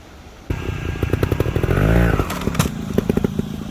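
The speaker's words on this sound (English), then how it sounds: "Clutch is in. I'm going to bring the RPM up just a little." A dirt bike engine blips and revs up close as the rider feathers the clutch to hop over a log, with a rising surge of engine noise followed by rapid choppy throttle bursts.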